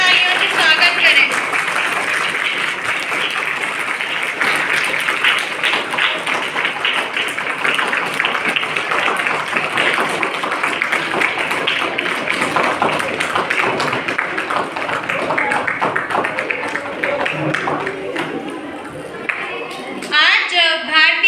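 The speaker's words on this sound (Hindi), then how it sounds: "जोरदार तालियों से स्वागत करें।" Sustained audience applause at a school Republic Day function welcoming the principal, a dense continuous clapping from a large crowd lasting about twenty seconds, steady and loud before fading near the end.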